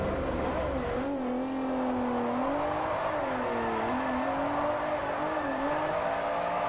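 A sedan's engine drones and revs continuously through gear changes during a race in Forza Motorsport 4, the pitch sliding up and down as the car works through corners, loud and steady with no talk.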